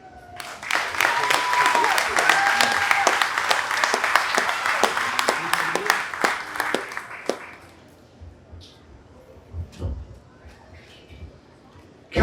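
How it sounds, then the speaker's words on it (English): A crowd claps steadily for several seconds at a county fair opening ceremony, the applause loud at first and then tapering off into scattered claps and quiet room noise. "A nice round of applause for our retiring royalty."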